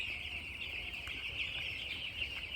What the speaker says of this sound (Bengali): আসেন ভাবলু একটু খাবারটা দেখেন না, মুরগিগুলো দেখেন আমাদের মুরগির পরিস্থিতি কি,